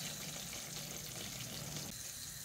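Water chestnut flour roasting in ghee in a pan, a soft continuous sizzle and crackle at low level, close and steady throughout.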